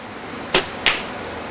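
A Bowtech Soldier compound bow set at 65 pounds shoots an arrow, giving two quick, soft, dry snaps a fraction of a second apart in an otherwise quiet space.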